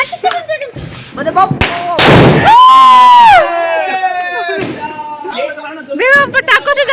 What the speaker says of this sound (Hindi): कितनी आवाज आ रही है पटाखों की।